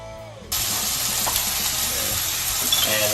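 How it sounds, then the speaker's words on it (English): Broccoli and shrimp stir-fry loudly in a hot pan with oyster sauce, a strong steady sizzle bursting in after a brief quiet moment and continuing close up without a break. "start adding the oyster sauce. Okay, we're just gonna stir it."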